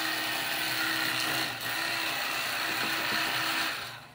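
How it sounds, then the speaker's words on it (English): An electric fillet knife whines steadily and loudly up close while it cuts through a buffalo fish during cleaning, its high buzzing motor tone running almost without pause before it trails off at the end. "Come right in there with that electric fillet now."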